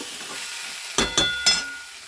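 Chopped tomatoes sautéing with cumin powder in a pan, a low sizzle under three sharp clatters of a spatula against the pan, close by.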